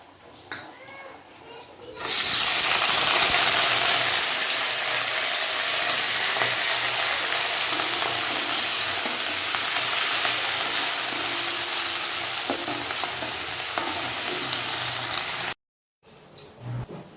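Oil hitting a hot wok while frying ghugni, a pea curry, bursts into a loud, steady sizzle that runs on for about thirteen seconds, then cuts off abruptly, with quieter kitchen sounds before and after.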